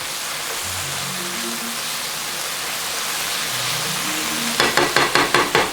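A vegan empanada filling base sizzles steadily in a pan as it cooks, a continuous loud frying hiss throughout, with a few rhythmic stirring or scraping strokes near the end.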